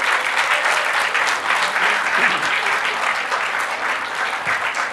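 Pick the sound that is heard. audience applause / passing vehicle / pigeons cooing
audience applause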